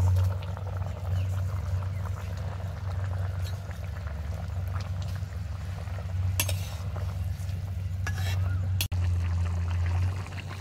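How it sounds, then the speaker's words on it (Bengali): Soaked fish goes into a pot of bubbling curry that keeps boiling with a steady low rumble and soft gurgle, broken by a few sharp clicks near the end. "তাইলে এখন যে ভেজা রাখা যে বাজিলা মাছ এইটা দিয়ে দিই"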